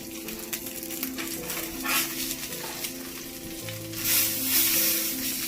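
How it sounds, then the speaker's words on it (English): Fish fries in a hot pan with a steady close sizzle and crackle, swelling louder near the end as it settles, with no talk. "now I'm going to lower the temperature a little bit and flip my fish"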